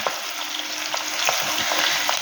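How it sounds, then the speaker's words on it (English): Onions frying in a pot for a chicken stew, a steady close hiss and crackle of sizzling oil with faint stirring clicks, no voices. "I've got the onions going on in the pot, and I'm just gonna fry those until they're nice and and soft."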